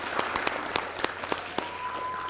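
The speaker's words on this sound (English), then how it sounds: "So let's give John a round of applause." A small audience gives a round of applause at a talk, with scattered, fairly sparse claps that sound quiet and slightly distant over a short stretch.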